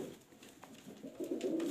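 Soft, low pigeon cooing, faint and steady, swelling a little toward the end with a bit of background rustle.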